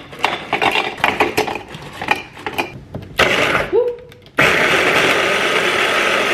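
A hand blender whirs through frozen fruit, mango, strawberries, yoghurt and honey; after clattering and handling noises, a loud, steady motor drone takes over and runs continuously to the end.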